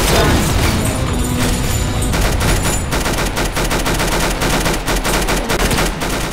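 Video game gunfire in the game Arsenal, dense rapid bursts of loud automatic shots and booms filling the whole stretch without pause, close and dominant.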